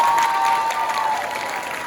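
Audience at an elementary school play clapping steadily, a dense wash of many hands applauding together from a crowd in a school auditorium, sustained and fairly loud throughout.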